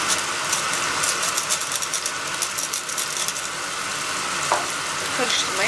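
Onions sautéing with salt in a pan, giving a steady, fairly loud sizzle and crackle throughout, with faint scraping of stirring and no talk.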